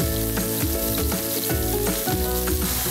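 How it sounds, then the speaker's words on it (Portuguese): Hamburger patties fry in a pan with a loud, close, continuous sizzle and crackle, broken by a few scraping stirs and no voices. "Agora a gente vai fritar esses hambúrgueres."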